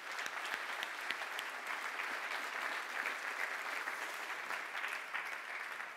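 Audience applause at a 2015 keynote presentation honoring nonprofits in attendance, a steady, dense wash of many hands clapping throughout, moderately distant and evenly sustained with no voices over it.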